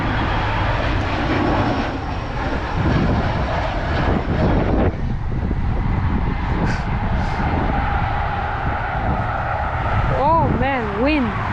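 A United airliner rolls past at a windy airport with a loud, continuous jet engine roar and buffeting wind noise close to the microphone. A brief warbling whine rises near the end, and a voice is faintly present.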